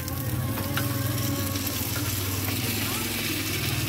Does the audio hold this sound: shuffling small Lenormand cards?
no